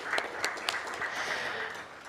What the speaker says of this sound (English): Let's give our gentlemen a warmer round of applause